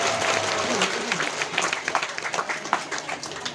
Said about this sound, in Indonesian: Tepuk tangan dulu buat Kalsel semuanya.